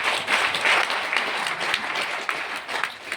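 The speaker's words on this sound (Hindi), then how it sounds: "ये जोरदार तालियां हैं।" An audience in a hall gives a loud, sustained round of applause, dense overlapping claps swelling early and then holding steady throughout.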